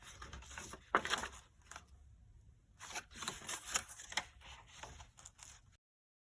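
Paper being cut with scissors for a folio journal, a few soft snipping bursts with quiet gaps between, close and faint, no talking.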